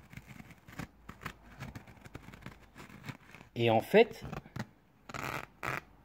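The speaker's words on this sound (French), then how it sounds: "je déchire ça comme du papier déjà" Under quiet talk, worn cotton convertible top fabric on an Alfa Romeo Spider Series 4 rips loudly twice, with rough scratchy bursts in between.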